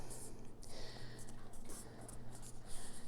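A paper pumpkin centerpiece gets folded and creased by hand, with soft rustling and scraping of paper against a table, faint and close, with light background noise.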